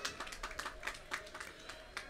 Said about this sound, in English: let us give a special round of applause for the fishers of St.